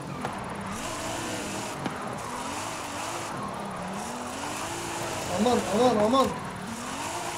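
Modified 2019 Nissan 370Z drifting in Forza Horizon 5, a steady droning engine held high through a long slide, with a brief tire squeal near the end as someone talks over it.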